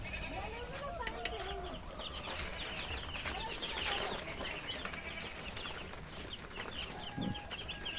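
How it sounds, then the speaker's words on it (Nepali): Village chickens clucking and squawking at close range, several birds with irregular short calls over a busy outdoor background, fairly faint overall. "सो मेरो कुखुराहरू चाहिँ यहाँनिर"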